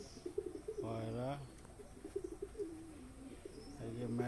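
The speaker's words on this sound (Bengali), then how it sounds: "পায়রা।" Pigeons cooing nearby at home, two or three low throaty coo phrases with brief gaps, over faint background room noise.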